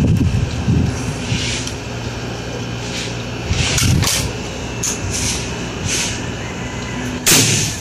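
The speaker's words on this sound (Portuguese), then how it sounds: "Mais um disparo no litrão." An air rifle fires a shot at a plastic bottle outdoors, with several sharp cracks and impacts spread across the stretch over steady wind and mechanical background noise, loudest near the end.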